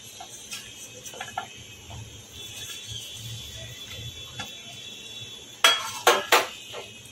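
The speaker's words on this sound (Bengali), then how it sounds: "এখন আমি সবজিগুলোকে এর মধ্যে দিয়ে দেবো।" Vegetables dropped into a pot of sambar dal, a quiet stretch of faint clatter followed by a few sharp metallic clinks and knocks near the end.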